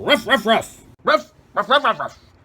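A voice imitates a dog barking, three quick gruff barks followed by a short pause and then a longer run of yapping barks, close and loud with no other sounds.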